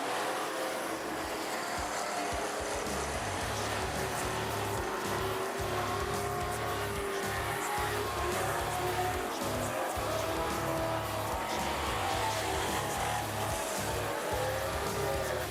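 Race cars circling Rockhampton Speedway, with one running the high side on a drying track; a steady, continuous engine roar that fluctuates slightly, moderately distant with no close voices.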